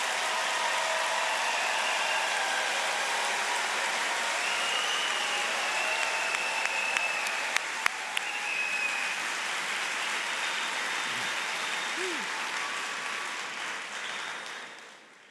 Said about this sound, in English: please join me in a round of applause for all of the graduates for the Center for Geospatial Analytics